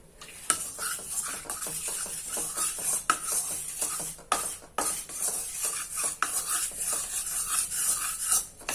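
A wooden spoon scrapes and stirs around a very hot iron kadhai with the gas turned off, giving repeated rhythmic scraping and clattering strokes with faint sizzling, close and fairly loud, with no talking.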